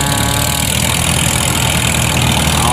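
Tractor engine in a Vietnamese rice-field team, labouring through deep sticky mud, a loud steady diesel drone close by with a dense low rumble that holds without a break.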